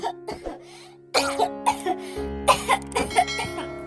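An old woman coughing inside a hut, a story sound effect with a few hoarse, rasping coughs in short bursts, over soft background music.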